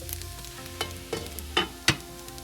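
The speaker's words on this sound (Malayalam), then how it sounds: "ഇനി ഞാൻ ഇതിലേക്ക് 1 ടീസ്പൂൺ വെളിച്ചെണ്ണയും 1 തണ്ട് കറിവേപ്പിലയും കൂടി ഇട്ട് ഒന്നും കൂടെ ഇളക്കി മൂടി വെക്കുകയാണ്" Plantain thoran with coconut oil and curry leaves being stirred in a pan, several distinct scraping strokes spaced out over a low steady sizzle, close and clear, with no speech.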